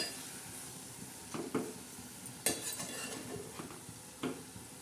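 Dry dill and moong dal bhaji being stirred in a pan, quiet scraping and clinking of a utensil against the pan in a few separate strokes over a faint background.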